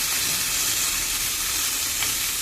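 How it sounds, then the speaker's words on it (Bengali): Vegetables with garlic and spices fry in a pan, giving a steady, close, loud sizzle and hiss that carries on evenly throughout with no talking. "তারপর সুন্দর করে এবার এটাকে ভেজে নেবো"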